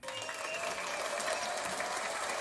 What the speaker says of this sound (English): Let's go ahead and give a wonderful applause to Lamar Jackson for that.